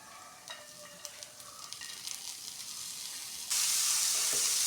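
Cabbage is tipped into a hot pan for a tomato curry and stir-fried. Light clinks and stirring come first, then a sudden loud, sustained sizzling hiss, close and alone without talk.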